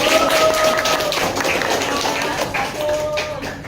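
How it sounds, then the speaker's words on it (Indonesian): A classroom group claps for the first team, a brisk, dense patter of many hands nearby, with some chatter and voices mixed in throughout. "Tepuk tangan buat kelompok satu."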